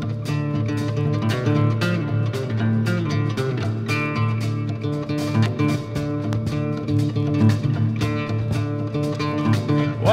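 A guitar strung with only three strings plays a busy, bouncy twangy figure within a full country band arrangement, rhythmic picked notes repeating steadily and loudly over about ten seconds with no voice.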